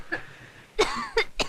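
A girl coughs close by, a faint cough followed by three sharp louder hacks in quick succession across a second and a half.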